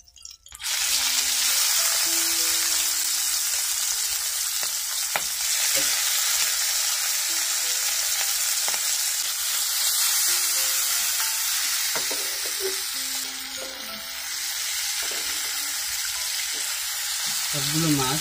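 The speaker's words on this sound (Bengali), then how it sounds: "সবগুলো মাছ উল্টে পাল্টে ভেজে নিতে হবে।" Giant freshwater prawns sizzle loudly in an oil-filled frying pan as they are turned, a continuous close crackle with occasional scraping of a spoon.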